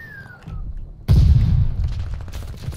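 A grenade detonates in the Call of Duty Vanguard video game, a sudden loud, heavy boom about a second in that leaves a rumbling, crackling tail of gunfire and debris behind it.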